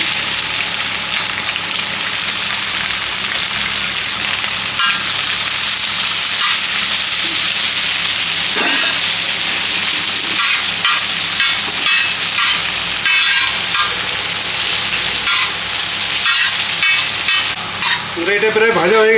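Mixed vegetables sizzle steadily in hot ghee on a griddle for fried rice, a loud, continuous frying hiss with occasional stirring scrapes throughout.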